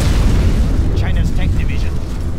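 A nuclear missile detonates in a China versus USA real-time strategy battle game, a loud sustained rumbling boom filling the low end, with a voice talking over it.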